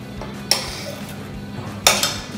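A spoon scoops custard into a dessert cup, with two sharp clinks of the spoon against the cup set apart by soft, quiet scraping and no talking.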